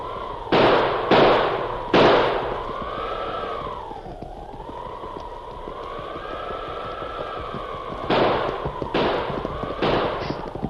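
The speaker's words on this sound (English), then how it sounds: "Desperately, he pulled the heavy 6-gun from under his mackinaw and began firing." A heavy six-gun revolver firing in a 1944 Lone Ranger radio drama, sharp loud shots in quick clusters at the start and end, with a long wavering tone sustained underneath throughout.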